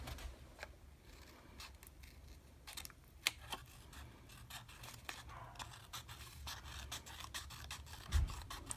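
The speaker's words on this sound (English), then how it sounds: "and then I'm going to cut these out." Scissors snipping through paper to cut out Cookie Monster bookmark corner shapes, a series of faint, close crisp cuts and rustles at an uneven pace, with no talking.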